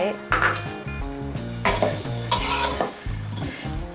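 Pork belly is stir-fried over high heat with fried garlic and crushed bird's eye chillies, the oil sizzling loudly while a utensil scrapes and clinks against the pan in a rapid, irregular rhythm. Background music plays underneath.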